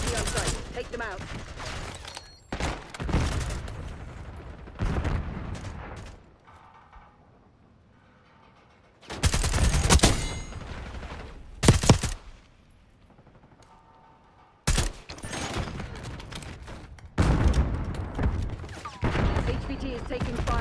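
Bursts of automatic gunfire from the video game Black Ops, several loud volleys broken by quieter stretches, with in-game voice callouts mixed in.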